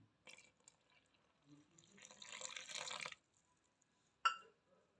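Water poured into a bowl of wheat flour mixed with sugar and salt for bread dough: a soft splashing pour swells for about a second and stops, with a few faint drips before it and a sharp clink near the end.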